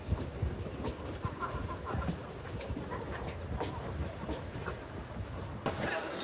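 A Modi Express passenger train pulls into Kankavli station, with rumbling wheels and rattling carriages under crowd noise and faint talk throughout, and a couple of sharper clanks near the end.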